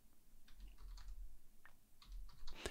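A computer keyboard is typed on to enter a search term, a short quiet run of soft key clicks in irregular bursts close by, with no talking.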